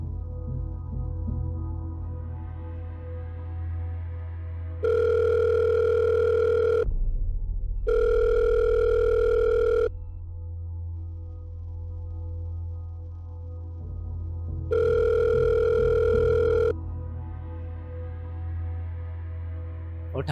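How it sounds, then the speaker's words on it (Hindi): Outgoing phone call ringing back in a short drama, three evenly spaced electronic ring tones of about two seconds each, separated by longer gaps of quiet low hum, with no voices. "एक काम करते हैं, इस नंबर पे कॉल करके देखते हैं।"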